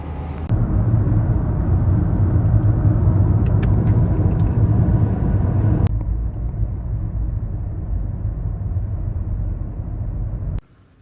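A car on the road heard from inside, a steady low engine and tyre rumble that drops to a quieter hum partway through, then cuts off abruptly near the end.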